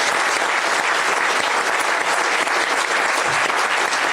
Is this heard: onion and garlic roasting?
no